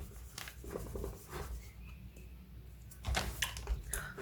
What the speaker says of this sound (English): let me erase this and I will write fresh.